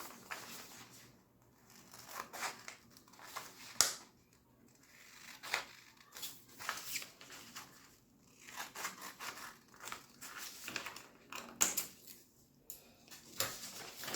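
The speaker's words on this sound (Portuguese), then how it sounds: "Só cortar esse espacinho aqui. Vou cortar do outro lado também." Scissors snip through synthetic leather while cutting out a pattern for a box-style pencil case, a series of close, crisp crunching cuts in irregular bursts, fairly quiet and without speech.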